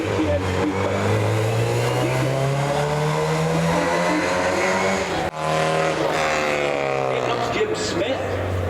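A GTM Coupe kit car races up the Prescott speed hill climb, engine loud and close with a long rising drone through the gears, a brief shift break, then climbing again, while a commentator talks over it.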